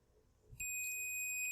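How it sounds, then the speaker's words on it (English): A GPIO smoke alarm test circuit's buzzer starts suddenly after a faint click and holds a steady, piercing high electronic tone, close and loud. "If I push the test button, the buzzer and LED goes on for 2 seconds."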